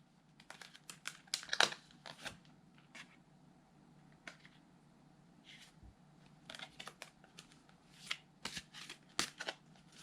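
Tarot cards shuffled and drawn at a reading table, soft irregular flicks and papery riffles coming in short clusters, quiet and close, with no one speaking.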